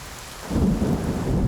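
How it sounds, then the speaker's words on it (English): A thunderstorm with heavy rain over ancient ruins on a monkey island: steady loud downpour hiss swells into a deep rumble of thunder midway, dense and close. "The storm delivers more than 2 inches of rain in a matter of hours, flooding the ancient ruins."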